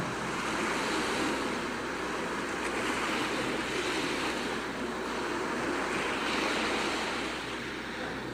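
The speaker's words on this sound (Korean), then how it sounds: "이거 바다 소리 나죠?" Ocean surf plays steadily for a church congregation, a broad, continuous wash of waves with a faint low rumble, even in level and unbroken by any voice.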